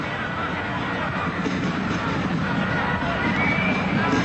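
A stadium crowd gathers before the 1995 Copa América match between Colombia and Peru. It makes a steady, dense murmur of many voices at moderate volume that holds even throughout, with no clear cheer standing out.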